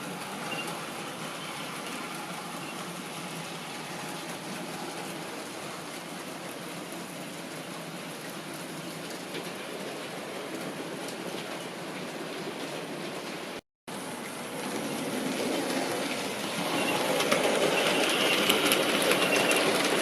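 A model railway freight train of grain hoppers and open wagons with tarpaulins runs steadily round an East Anglian layout, a continuous close rolling rumble and clatter with no talk.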